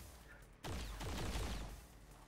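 Gunfire rattles in a modded XCOM video game, starting in a sudden loud burst and continuing as layered rapid shots that echo with a heavy low rumble.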